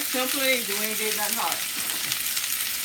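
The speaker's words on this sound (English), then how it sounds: "Listen to that sizzle" Vegetables with celery sautéing in a pan, giving a loud, steady sizzle and fry hiss that runs throughout, with someone talking over the opening half.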